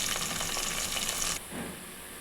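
Onions, curry leaves and green chillies fry in a pan for a spicy small-fish curry, a loud steady hiss that drops to a softer sizzle partway through.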